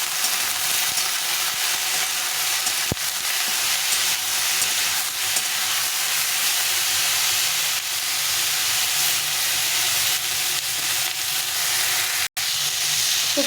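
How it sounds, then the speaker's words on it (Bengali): Vegetables fry in a pan with salt and turmeric powder, giving a loud, steady sizzle and hiss throughout, with a sharp click or two and no speech. "হলুদ গুঁড়ো দিয়ে আমি একটু সবজিটাকে ভেজে নেবো"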